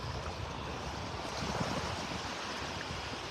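Soft ocean waves lap at a sandy beach in North Naples, Florida, on a clear morning, a quiet, even wash of surf with no voices.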